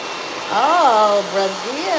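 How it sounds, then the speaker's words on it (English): A handheld hair dryer blows during a tension blow-dry after a treatment, giving a steady loud whoosh while a voice talks over it. "we blow dry."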